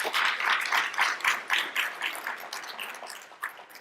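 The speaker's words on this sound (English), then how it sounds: "Let's give Congresswoman Kelly and her team another round of applause this morning." Audience applause at a health policy session, a dense wash of many hands clapping together that stays fairly loud, then gradually thins and fades toward the end.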